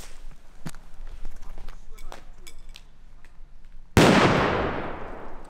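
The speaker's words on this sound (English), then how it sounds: "It exploded! It exploded." A TAGiNN TAG 19 airsoft grenade exploding: one sudden, loud, sharp bang with a decaying hiss, after quieter rustling and footsteps while people talk.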